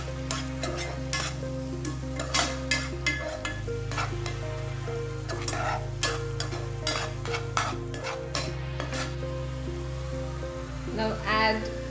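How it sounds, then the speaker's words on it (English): Onions frying with garlic and ginger-garlic paste for an egg masala curry, a continuous close sizzle broken by frequent clicks of a spatula against the pan over a steady low hum. "Some just fry it till the raw smell goes away."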